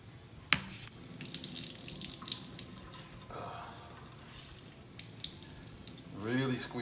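Water squeezed from grated sweet potato splashes and trickles into a sink for several seconds, with scattered drips, followed by a brief voice near the end.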